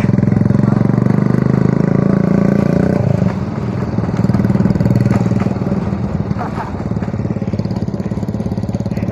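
Touring motorcycle engine running loud and close, a steady throbbing idle that drops slightly after a few seconds, with people talking over it outdoors.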